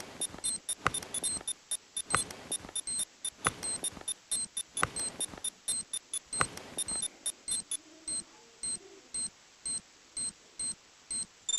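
Planted-bomb timer in the Critical Ops video game: a steady series of short, sharp electronic beeps that starts rapid and dense, then settles into evenly spaced single beeps, clear and alone with no talking.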